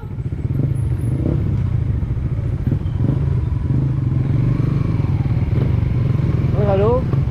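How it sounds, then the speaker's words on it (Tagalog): Many motorcycles pass nearby, engines rumbling and puttering steadily in a continuous low drone, with voices talking briefly near the end. "Dami motor."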